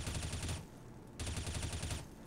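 Sustained automatic fire from an M4 rifle in CS:GO, two long full-auto bursts separated by a brief pause, loud, close and dense, with no talking.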